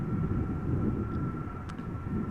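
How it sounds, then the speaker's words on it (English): A Delta Airbus A330 airliner at Amsterdam Schiphol Airport gives off a steady, broad engine rumble at moderate distance, with a faint constant whine running through it. "Now before the A350 we are going to see yet another Airbus A330 from Delta"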